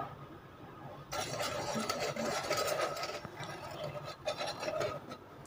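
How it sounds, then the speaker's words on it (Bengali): Sugar stirred into water in a bowl, a close clinking and scraping of a spoon against the sides that starts after a quiet second and continues with uneven swirling strokes. "আমি এখন চিনিটা জলে দিয়ে দেব।"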